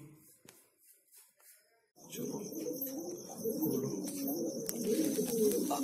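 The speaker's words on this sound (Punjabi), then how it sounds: "ਤੁਸੀਂ ਆਪਣੇ ਕਬੂਤਰ ਸਾਰੇ ਦੇਖ ਸਕਦੇ ਹੋ" Pigeons coo steadily in a loud, close chorus, with low rolling calls overlapping continuously after a quieter opening of faint bird sounds.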